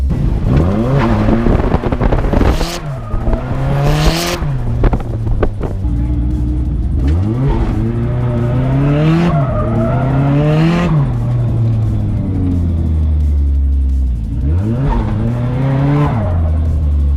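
A car drifting around a big corner, its engine revving up and down in repeated waves with tire squeal and skidding, loud and close throughout without talk.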